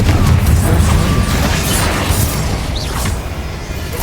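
Confringo fire spell blasts in Hogwarts Legacy, a dense rumbling boom with crackling debris that rolls on steadily for several seconds, loud and close.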